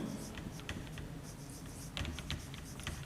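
Pen writing on paper while a maths solution is written out, giving soft scratchy strokes in short bursts, fairly close, with a faint voice underneath.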